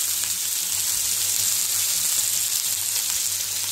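Food sizzles and fries steadily in a hot pan as part of a homemade couscous, a dense, even crackle that holds constant and close throughout with no voices.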